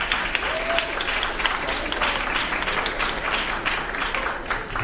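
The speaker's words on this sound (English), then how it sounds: "So give yourselves a round of applause as well." A school audience at a Writers Week event applauds steadily, with dense, even clapping from many hands filling the room for the whole stretch.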